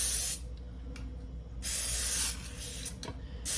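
Pam cooking spray going onto a roasting pan in a home kitchen: two bursts of aerosol hiss, a short one at the start and a longer one mid-way, close and clear over a low background hum, with no talk.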